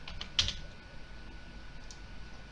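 Computer keyboard typing, a quick cluster of crisp key clicks early on followed by a lone softer tap, faint and close against a quiet room background.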